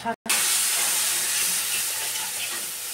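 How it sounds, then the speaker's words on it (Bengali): Spice paste for a cauliflower malai curry sizzles loudly as water is poured into the hot pan, a sudden burst of steamy hissing that stays strong and close, slowly easing off. "একটু জল দিয়ে দিই"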